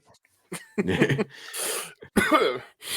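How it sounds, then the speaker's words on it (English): Several harsh, raspy coughs in separate bursts, close and loud, with short pauses and breaths between them. "Sorry, I'm coughing so much"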